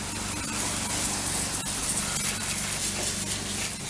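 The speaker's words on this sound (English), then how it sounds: "Right, we're down at power washer." Coin-operated power washer spraying a car at a wash bay, a steady loud hiss of high-pressure water running continuously and close up, with no talk.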